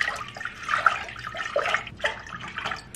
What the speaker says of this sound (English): So we're gonna get 4 cups of water into here.